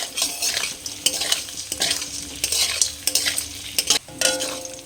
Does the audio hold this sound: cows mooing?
no